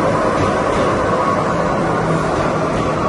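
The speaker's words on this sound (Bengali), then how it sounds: "যে মেট্রোটাতে আমি আসলাম সেটা এখন ঢুকছে" A metro train pulling into the platform at Shahid Khudiram station, a loud continuous rumble and roar that stays steady throughout, with no one speaking.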